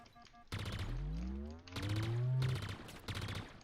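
Gunfire in a shooter video game, heard as loud bursts of rapid automatic shots separated by short gaps, with a descending tonal sweep running under the firing.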